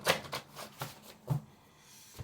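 A deck of tarot cards being shuffled by hand, a soft run of quick papery riffles and taps, faint and close, with no voices.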